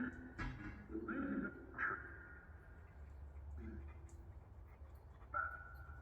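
A dog brought along on an outing at Great Barr Hall gives faint, quiet whimpers and a couple of short yips, heard close but softly over a low background hum.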